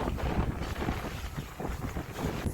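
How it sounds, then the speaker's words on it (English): Strong wind gusting to 80 buffets the microphone while sailing in New Zealand, a constant low roar that swells and eases. "It's gusting 80."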